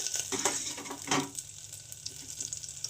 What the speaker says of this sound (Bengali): এখন তেলের মধ্যে আমি দিয়ে দিচ্ছি একটু সাদা জিরে ফোড়নে, দিয়ে দিচ্ছি 2টো তেজপাতা